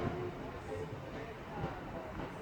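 A passing East Midlands Trains Class 222 diesel unit at Bedford on the Midland Main Line, a low continuous rumble and rush heard from inside another train, steady throughout with faint voices underneath.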